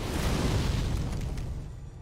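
A deep, rumbling boom with a heavy low-end roar that fades slowly over two seconds, a cannon blast in the game Sekiro.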